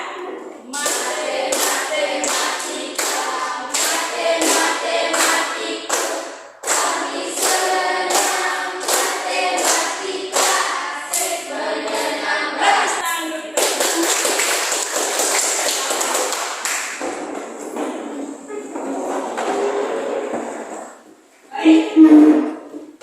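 A classroom of students does a rhythmic math clap, with quick, crisp bursts of hand claps in a repeating pattern. Children's voices chant along, and the claps stop briefly between rounds.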